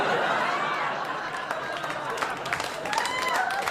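Audience in a Gotham Comedy Club stand-up show clapping, a scattered, moderately loud round of applause mixed with crowd chatter and some voices over it.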